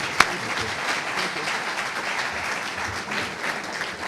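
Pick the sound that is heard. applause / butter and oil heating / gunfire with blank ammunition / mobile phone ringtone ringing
applause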